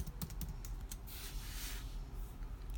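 Typing on a computer keyboard, with a quiet run of quick key clicks at close range over a low background hiss.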